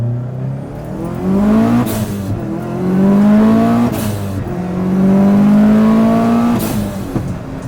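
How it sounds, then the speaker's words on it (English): A Subaru STI with Perrin engine mounts and 24 PSI boost accelerates hard through first, second and third gear, its loud engine climbing steadily in pitch in each gear before dropping at every quick shift. "let's see what it's like in first gear here. First to second, third maybe."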